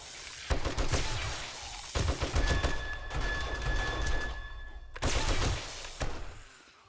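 A turret firing in the video game 7 Days to Die: repeated dense bursts of automatic gunfire with short gaps between them, loud and close, and no voice.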